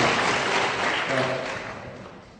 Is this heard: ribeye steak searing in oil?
no